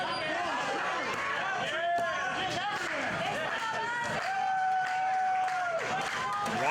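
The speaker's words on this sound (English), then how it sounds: "Raucous crowd, always full of energy, expecting the unexpected" Raucous crowd at a bloody wrestling show, roaring and chattering steadily throughout, with shouts rising above the din and a commentator's voice running over the noise.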